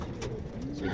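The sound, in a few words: racing pigeons cooing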